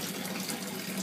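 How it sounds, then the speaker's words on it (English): Water overflows into the sump of a small CHOP2 aquaponics setup, making a steady, close splashing trickle that runs continuously throughout with no voices. "Water is overflowing into the sump."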